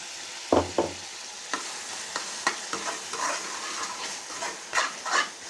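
Tomato paste frying with ginger-garlic paste in a pan, a low crackling sizzle punctuated by repeated scraping and tapping of a spoon, with a loud clatter near the start.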